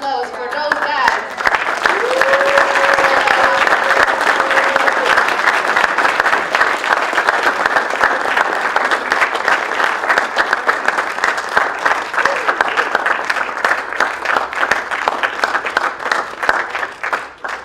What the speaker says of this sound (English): So please make a loud applause for those guys.